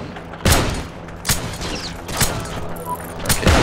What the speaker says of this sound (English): Someone's firing upon me,